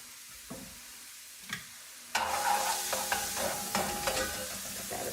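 Orange pepper and leftover cooked rice sizzling in a frying pan, starting with a few soft stirs and then breaking into a steady, close hiss punctuated by utensil taps, with no talking.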